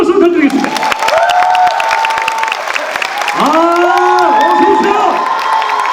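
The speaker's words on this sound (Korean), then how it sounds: "여러분 큰 박수 부탁드리겠습니다." An audience at a comic festival film talk applauds and cheers as guests are welcomed onto the stage, loud continuous clapping with high shouts and whoops rising over it.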